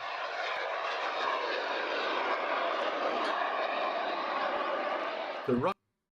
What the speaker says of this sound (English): They built jet fighters like the Messerschmitt Me-262.